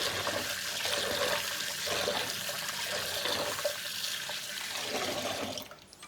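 Tap water pours steadily while fish is rinsed in a sink, a continuous close splashing rush that ends abruptly near the close, leaving faint trickling.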